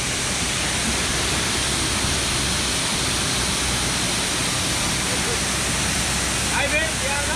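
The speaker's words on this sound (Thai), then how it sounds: "น้ำตกนะครับสวยมากครับ" Sai Yok Yai waterfall in Kanchanaburi, Thailand, roars as a loud, constant wash of rushing water close by, with a voice speaking briefly over it near the end.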